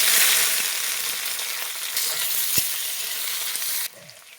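Onion frying in hot oil in a pan for a chicken curry with cauliflower and potato, a loud, dense, crackling sizzle that holds steady close up and then abruptly drops quieter near the end.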